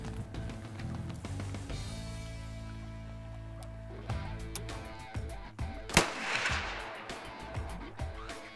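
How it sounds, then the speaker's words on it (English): A single rifle shot rings out at a target while sights are checked before a Newfoundland caribou hunt. It is one sharp, loud crack over steady outdoor background noise, with no talking. "I'm gonna take a little shot here and make sure the airlines didn't do a number on our sights"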